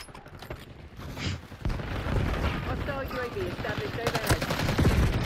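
Rapid automatic gunfire and explosions in a Call of Duty: Black Ops 6 match, dense and loud throughout with a voice talking over the battle.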